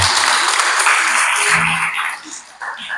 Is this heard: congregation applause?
yes